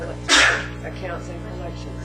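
A single sharp sneeze bursts out near the microphone during a collection service board meeting, loud and brief, with a low room hum and a voice talking around it.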